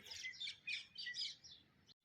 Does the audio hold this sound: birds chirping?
yes